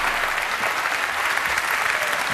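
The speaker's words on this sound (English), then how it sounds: "give Bridget a round of applause for trying" Studio audience applause during a televised magic competition, a loud, continuous roar of clapping and crowd noise filling the whole moment without letup.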